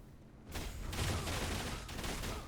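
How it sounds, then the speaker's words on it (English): Skill burst explosion effect in the action game Torchlight: Infinite, a sudden dense crackling blast that bursts in after a brief quiet and sustains as a loud rattling barrage of rapid impacts. "I actually like when the skill burst effect triggers."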